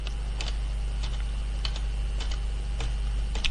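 Arrow keys on a computer keyboard pressed in a sparse series of about eight crisp, close clicks spread unevenly over a few seconds, with a steady low hum underneath.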